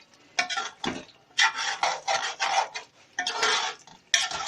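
Beef karahi is mixed in a pot, with bursts of scraping and rubbing as a utensil drags through the food against the metal, coming in uneven strokes with short pauses and no talk.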